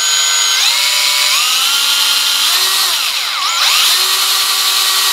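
A power drill running at slow speed, around 400 RPM, bites into a stainless steel tube seat with a loud, steady whine and shifting tones as the bit cuts, heard up close with no talking.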